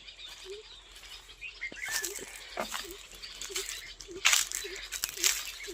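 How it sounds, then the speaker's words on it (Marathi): Sparrows in a tree chirp in quick, scattered bursts over a faint outdoor background, some calls sharp and bright, others softer, fairly quiet and at a moderate distance. "झाडावर चिमण्यांचा चिवचिवाट चाललाय"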